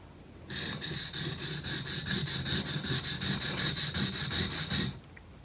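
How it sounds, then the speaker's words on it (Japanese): Wood carving chisel sharpened by hand with vertical strokes, a steady rhythmic series of about twenty close, bright rasping rubs against a stone, evenly paced and alone without talk. "ただ彫刻刀を研ぐのは縦研ぎだけじゃなくて、横に持って"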